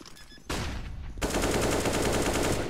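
Gunfire from a first-person shooter video game: a sudden burst of rapid automatic shots starts partway in and then swells into sustained, dense firing that carries to the end, loud and with no talk.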